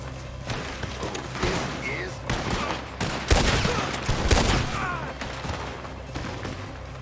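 Red Dead Redemption 2 gunfights bring a flurry of gunshots and heavy impacts, with several loud cracks around the middle, while voices talk and shout throughout.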